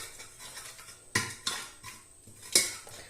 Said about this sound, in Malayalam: ഇതൊന്ന് ഉടച്ചു കൊടുക്കാം.